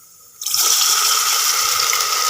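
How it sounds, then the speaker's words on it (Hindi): Water pours into a pan of browned onions while making a potato and egg curry, a sudden loud splashing gush that begins after a short quiet moment and continues steadily. "अब मैं इसमें थोड़ा सा पानी ऐड करूँगी"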